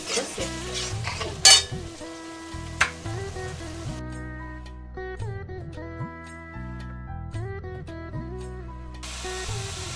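Banana stem frying with masala in a pan gives soft sizzling and stirring scrapes, with a sharp spatter early on, beneath steady background music.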